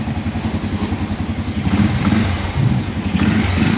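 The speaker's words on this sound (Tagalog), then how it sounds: "Tapos check natin yung starter. Push button niya kung gumagana." A motorcycle's push-button electric starter is tested after its wiring is fixed; the engine turns over and runs with a steady, close, pulsing rumble and rising revs.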